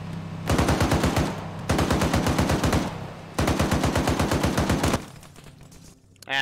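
Video game machine-gun fire in a Falklands-style anti-aircraft hunt: three long, loud bursts of rapid rhythmic shots separated by short pauses, ending in a quieter rumble.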